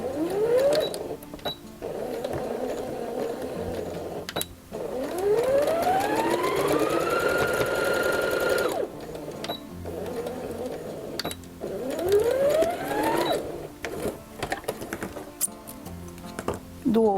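A sewing machine stitches a seam on fabric for a scarecrow in repeated bursts of rapid whirring, each run speeding up and slowing down, with short pauses between and quiet talk at times.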